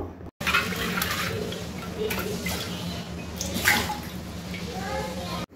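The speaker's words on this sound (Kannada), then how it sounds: "ಸುಮ್ಮನೆ ನೀರಲ್ಲಿ ಹಂಗೆ ಸ್ಕ್ರಬ್ ಯೂಸ್ ಮಾಡಿ ಚೆನ್ನಾಗಿ ತೊಳ್ಕೊಬೇಕು" A small clay pot washed with plain water and a scrubber, splashing and running water with scrubbing and light knocks, close by and in short bursts.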